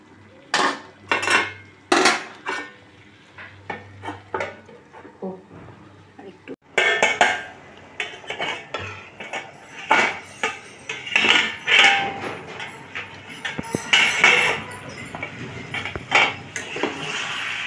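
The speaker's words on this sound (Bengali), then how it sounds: "এবার ঢাকা দিয়ে দিই আর একটু।" Metal pans, utensils and a pot lid clatter and clink repeatedly in a home kitchen while a pumpkin, shrimp and chickpea curry cooks, with a person speaking between the sharp knocks.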